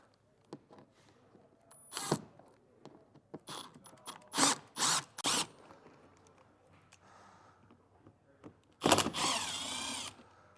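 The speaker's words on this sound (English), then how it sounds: "So we'll take this bit and take these screws off." A power drill backs screws out of trim on a 2024 Chevrolet Traverse during a trailer hitch install, sounding in several short, sharp whirring bursts close by, then a longer run near the end, with quiet clicks and handling noise between.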